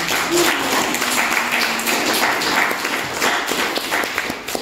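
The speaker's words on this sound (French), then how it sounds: "nous pouvons nous applaudir et applaudir pour ça" Audience applause at a World Africa Day event in the Auvergne-Rhône-Alpes region, a steady dense clapping from a crowd that holds for several seconds and then begins to thin toward the end.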